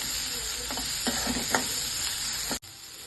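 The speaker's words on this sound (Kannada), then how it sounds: "ಈಗ ಈರುಳ್ಳಿ ಹಾಕೊಳ್ಳೋಣ. ಚೆನ್ನಾಗಿ ಫ್ರೈ ಮಾಡ್ಕೊಳ್ಳಿ." Onions frying in a pan for potato Manchurian, a close steady sizzle with a few light stirring taps, ending in a brief sharp click before the hiss drops lower.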